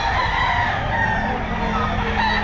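A kanawayan gamefowl rooster crows loudly up close at a busy pet market, a long sustained call over steady crowd and bird noise.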